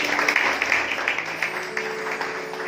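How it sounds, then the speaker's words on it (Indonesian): Congregation applause at a church service fills the space, a continuous patter of many hands clapping at moderate distance with a faint tonal hum underneath. "boleh kasih tepuk tangan yang paling meriah bagi Tuhan"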